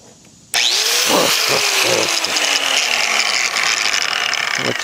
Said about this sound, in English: I'm going to try just cutting all this out with a grinder.